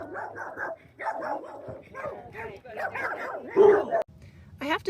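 Dogs bark and yip at the Quartzsite Dog Park, a few sharp barks near and far mixed with whimpers, while someone talks over them throughout.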